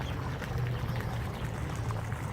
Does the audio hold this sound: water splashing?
yes